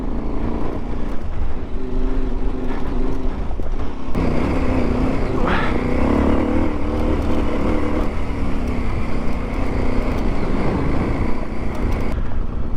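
A KTM motorcycle climbs a Colorado backcountry alpine pass, its engine a steady, loud drone with wind rush throughout, dipping briefly before picking up again, with no talk over it.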